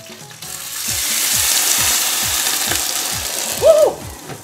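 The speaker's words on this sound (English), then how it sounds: "We're going to let them sizzle" Steady, loud frying sizzle of potstickers in a hot pan, with a rhythmic clicking running underneath and a brief higher squeal near the end.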